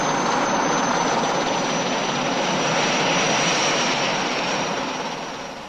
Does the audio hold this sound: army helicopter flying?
yes